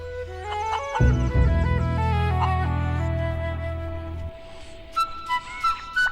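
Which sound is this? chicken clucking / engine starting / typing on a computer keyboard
chicken clucking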